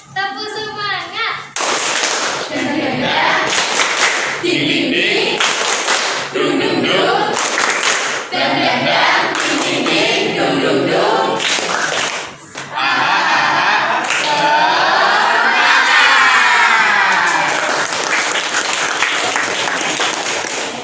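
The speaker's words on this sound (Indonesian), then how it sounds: "Tepuk semangat." An Indonesian classroom group performs a rhythmic 'tepuk semangat' clapping chant, sharp bursts of claps in patterned groups alternating with loud children's voices chanting and cheering.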